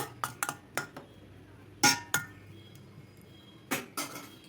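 A spoon clinks and taps against a bowl as ghee is mixed into vegetarian potato curry, a series of faint, scattered metallic knocks with quiet pauses between them.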